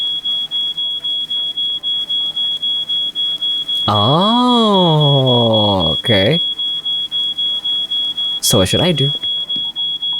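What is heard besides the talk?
smoke alarm beeping after burnt toast, video game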